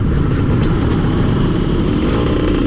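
A 124cc motorcycle fitted with a small-diameter aftermarket exhaust runs hard at high revs, a loud, steady, raspy drone holding constant throughout without pauses.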